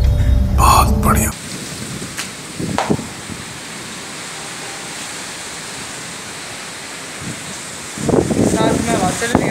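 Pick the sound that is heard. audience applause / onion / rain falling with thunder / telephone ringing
rain falling with thunder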